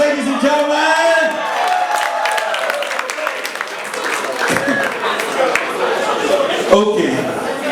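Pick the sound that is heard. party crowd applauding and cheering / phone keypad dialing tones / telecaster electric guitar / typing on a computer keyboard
party crowd applauding and cheering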